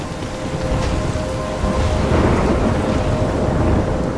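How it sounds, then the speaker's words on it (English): A thunderstorm in the video game Life Is Strange: steady loud rain with deep rolling thunder rumbling throughout, swelling midway, no voices. "I'm trapped in a storm?"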